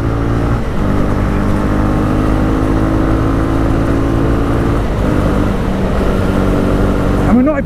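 A Honda CB300R motorcycle is ridden along an English road, its engine giving a steady loud droning hum with wind rush throughout, close to the rider, with someone talking briefly over it.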